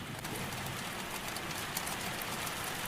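Steady rain falls in a continuous soft hiss around a sheltered bookshop with a fire burning, an even, unbroken wash of drops with no voices.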